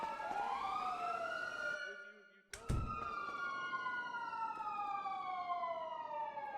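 Police siren wailing in a GTA roleplay game, a loud sweeping tone that cuts out briefly with a thunk before resuming and gliding down steadily; faint voices murmur underneath.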